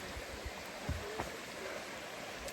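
Stream at a water crossing on the Appalachian Trail, a faint, steady burble and trickle of flowing water with a few soft splashes and no talking.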